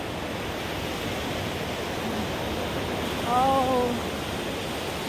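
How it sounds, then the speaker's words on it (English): Ocean waves washing onto Sugar Beach in Sipalay on a calm morning, a steady broad surf hiss close by, with a brief voice and a short whistle-like sound in the middle. "Anyway, it's ocean."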